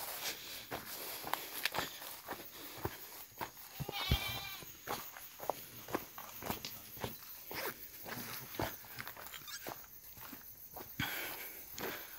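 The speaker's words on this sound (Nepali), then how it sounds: "गोठ बाख्राको" Goats in a goat shed beside a huge banyan tree give a faint bleat midway, amid scattered close footsteps and rustling in a quiet outdoor setting.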